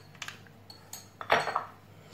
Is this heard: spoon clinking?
yes